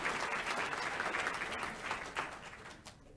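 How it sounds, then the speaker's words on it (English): A crowd applauds steadily at a university graduation celebration, with dense clapping that holds strong, then gradually thins and fades toward the end. "Can we give her another round of applause?"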